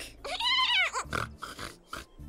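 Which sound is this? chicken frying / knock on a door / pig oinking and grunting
pig oinking and grunting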